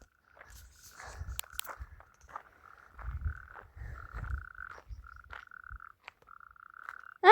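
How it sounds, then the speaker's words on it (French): Frogs and toads croak close by at night in a series of short raspy calls, sometimes overlapping, with soft rustling and thumps in between. "Ah, c'est des grenouilles."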